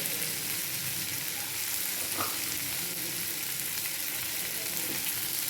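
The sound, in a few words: ivy gourd being sautéed in a pan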